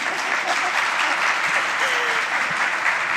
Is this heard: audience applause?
yes